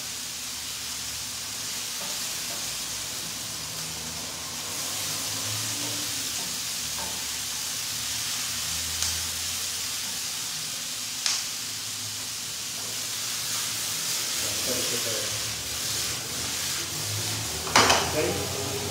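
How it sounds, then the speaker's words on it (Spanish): Onion sizzling in a hot pan while tacos are made, a continuous bright frying hiss that swells slightly midway, with a few faint utensil taps and clinks scattered through. "aquí vamos a agregar la cebolla"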